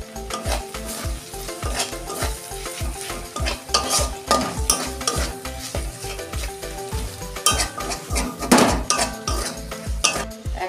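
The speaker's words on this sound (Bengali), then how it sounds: "আদা রসুনটা ভালো করে কষে নিচ্ছি, কাঁচা গন্ধটা যাতে চলে যায়।" Ginger, garlic, green chili and tomato sizzle in a pan for prawn curry while a utensil scrapes and clinks in a steady, rapid stirring rhythm, close and fairly loud.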